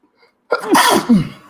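A single sharp sneeze bursts out after a brief quiet moment, close and loud, in a casual podcast setting.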